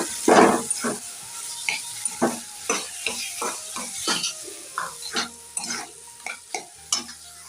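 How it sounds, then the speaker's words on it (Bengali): Bottle gourd peel paste being stirred in a pan, with a run of distinct scraping strokes of a spoon against the metal, roughly one or two per second, over a faint steady sizzle, close and fairly loud. "খোসাটা দিয়ে দিতে হবে দিয়ে এটাকে ভালো করে একটু মিশিয়ে নিতে হবে"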